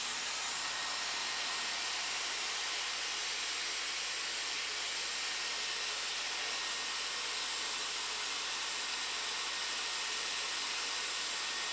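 A Dyson Airwrap blow drying super fine hair gives a loud, steady, close airy roar that holds evenly from start to finish with no talk over it.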